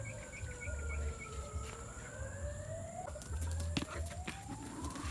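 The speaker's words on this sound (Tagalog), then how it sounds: "Ayan, magpapakain na po ako ng manok." Backyard chickens, including a rooster and a chick, cluck softly while being fed leftover rice in the morning, with a rooster crowing in the distance and steady low murmuring clucks near by.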